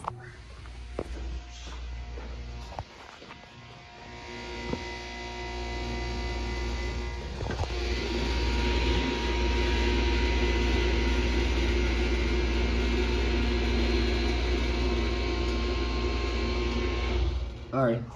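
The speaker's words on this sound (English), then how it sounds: "you're gonna hear the elevator machine room" Elevator machine room motor running steadily at close range, a continuous loud mechanical hum and whir that ramps up partway through and holds for most of the stretch before cutting off near the end.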